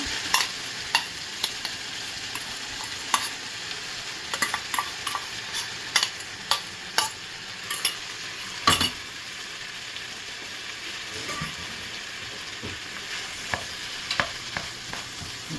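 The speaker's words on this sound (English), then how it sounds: "now we're going to just stir it. Stir it in." Cooked corned beef is stirred in a sizzling pan for a corned beef and cabbage dish, a steady frying hiss punctuated by sharp scrapes and taps of a utensil against the pan, close by and without talk.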